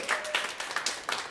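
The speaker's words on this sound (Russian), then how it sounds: "аплодисменты" Audience applause for the drummer David at a live ensemble concert in Alexei Kozlov's club, a short burst of dense, moderately loud clapping with a few stronger swells.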